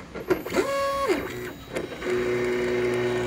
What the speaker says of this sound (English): if you're new into 3D printing, 3D printers used to be noisy as heck